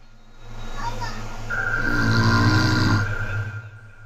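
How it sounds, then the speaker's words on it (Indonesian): A low, rough snore-like rumble swells and fades once over a steady hum, with a faint higher whine underneath. "mencoba mendengar dan melacak sumber suara mirip dengkuran itu"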